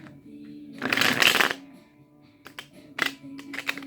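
Tarot cards are shuffled by hand up close: a long riffling burst, then several shorter crisp shuffles and taps, with no voice over them.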